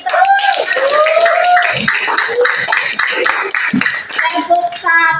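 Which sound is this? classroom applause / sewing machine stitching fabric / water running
classroom applause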